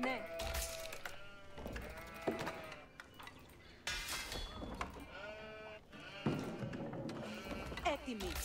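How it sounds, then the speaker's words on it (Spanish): Sheep in the Age of Empires 4 strategy game bleat repeatedly, several overlapping calls close by, alongside other game sounds. "Tengo bastantes ovejas para hacer este mapa."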